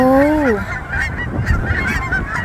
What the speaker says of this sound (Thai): อันนี้จะเป็นห่านแคนาดานะคะ